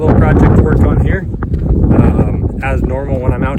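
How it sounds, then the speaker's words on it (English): Wind blowing outdoors with broad, steady rumbling noise across the whole clip, buffeting a microphone close by while someone talks over it. "sorry about the wind. It's a little bit windy."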